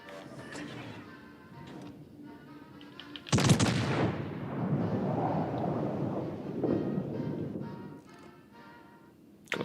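Heavy naval turret guns fire in a battleship video game, one big booming blast followed by a long rumbling roar and scattered smaller reports, with faint game sounds around it.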